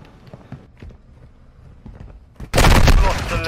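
Soft footsteps and faint shuffling in a ranked hard-point match of a shooter game suddenly give way to a loud, dense burst of gunfire that fills the final second.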